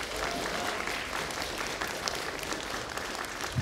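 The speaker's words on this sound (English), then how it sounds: "give a round of applause, please." Audience clapping steadily at a public school mid-year concert, a dense, even patter of many hands filling the room without a break, fairly close.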